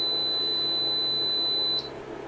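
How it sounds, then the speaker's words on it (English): Timing sensor on a Saito FG-60 R3 engine's adjustable magnet ring, set at 30 degrees before TDC, gives a single steady high-pitched electronic beep that holds for nearly two seconds and then cuts off, near and clear. "you could hear the beep"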